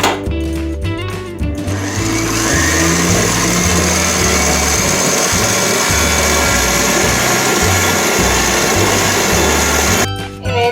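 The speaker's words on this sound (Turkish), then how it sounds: "Mikserimizin en hızlı seviyesine kadar alıp köpürene kadar karıştırmaya devam ediyoruz." An electric mixer running at top speed whips egg whites with sugar, a loud, steady motor whir that holds for about ten seconds after a brief clatter at the start and cuts off near the end.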